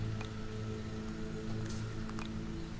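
Steady rain falls in the Harvest Moon DS: Sunshine Islands video game, a constant hiss of droplets layered over low looping game tones, even in level throughout with no talking.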